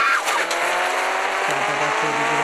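A car engine revs steadily and loudly in the Indian Bikes Driving 3D video game, its pitch stepping up and down as gears shift, with a brief tire squeal early on.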